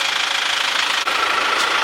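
A John Deere 5425 tractor engine runs steadily, loud and close, a continuous rumbling drone with no talk over it.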